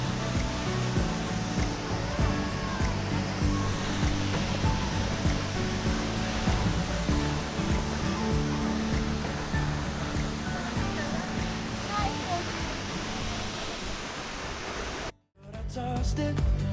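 The Aw-awasen Falls waterfall roars as a loud, continuous broadband rush of falling water, close and steady throughout, with a brief dropout near the end.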